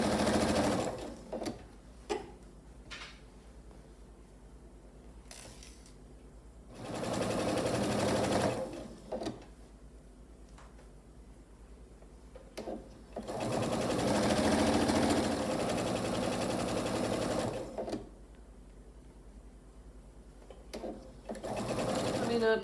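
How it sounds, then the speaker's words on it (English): A sewing machine runs in long, steady bursts while it stitches a flannel self-binding receiving blanket along quarter-inch lines. Between the runs, someone talks over a low background hum. "so I'll just go ahead and stitch all the way down"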